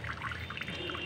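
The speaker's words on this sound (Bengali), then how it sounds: "এখন আমি ধুয়ে নিচ্ছি, পরিষ্কার পানি দিয়ে ধুয়ে নিচ্ছি" Soaked chickpeas being rinsed in clean water, a steady close trickle and pour of water with small splashes running throughout, with no voices.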